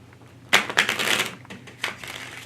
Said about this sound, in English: I'll start shuffling and then I'm just gonna pass it around